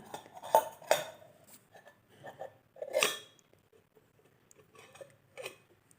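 A metal spoon scrapes and clinks against a pot in irregular bursts, stirring chopped chayote with a few louder knocks between quieter scraping.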